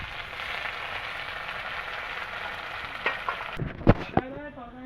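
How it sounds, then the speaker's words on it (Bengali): Onion frying in hot oil with cumin seeds, a loud, steady sizzle close up, ending in a few clattering knocks and scrapes as the pan settles. "তেলটা হয়ে গেছে আমি পেঁয়াজটা ভেজে নেবো আগে"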